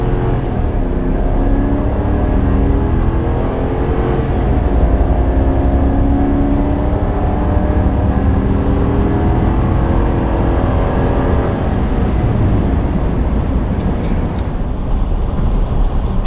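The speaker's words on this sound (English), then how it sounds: "Fair warning, we're going to light these tires up because these tires just don't have any traction." A 2022 Chevy Silverado 2500 HD on low-traction factory tires holds a loud, continuous engine roar with rising and falling revs as the tires spin, ending with a few faint clicks.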